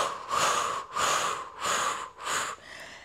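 Four rhythmic breathy exhalations during Pilates crunches with arm pumping, each a strong airy puff about half a second long, close and clear with short pauses between.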